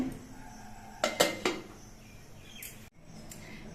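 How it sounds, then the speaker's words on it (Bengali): A lid clatters onto a cooking pot of boiling gati kochu (taro) with salt, giving a few sharp metallic clanks close by, then a quieter settling rattle in an otherwise calm kitchen. "একটা ঢাকনা দিয়ে ঢেকে দিচ্ছি"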